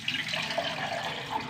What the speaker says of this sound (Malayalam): പിന്നെ വെള്ളം ഒഴിക്കുക.